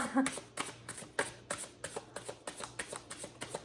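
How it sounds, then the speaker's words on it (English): Oversized tarot cards are riffle-shuffled, giving a quick regular series of papery flutters and slaps, about a dozen bursts close to the microphone, with no talk over them. "these cards are kind of big, and so it can be a little bit iffy to shuffle"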